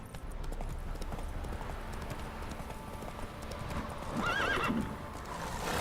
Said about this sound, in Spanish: Por Dios, caballo, no te pares.